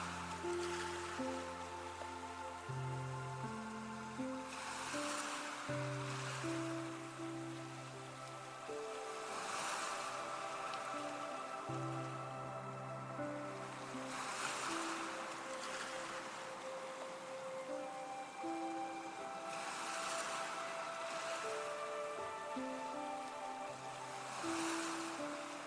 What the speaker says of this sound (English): allow the soothing sound of waves to wash over you